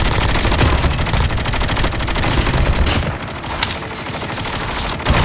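Rapid automatic assault rifle fire from the Call of Duty Mobile battle royale mode, a loud continuous burst of dense gunshots that thins briefly near the end before resuming.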